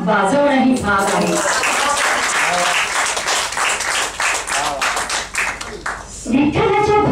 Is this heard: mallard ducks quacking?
no